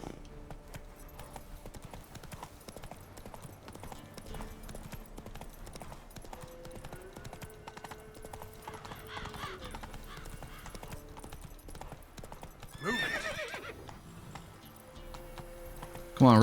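Hooves clip-clop steadily from Roach, a horse in a video game, moving through swamp terrain, with a whinny near the end over game music and someone talking intermittently.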